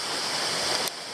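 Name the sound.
Shower Falls waterfall at Waterfall Bay, Tasmania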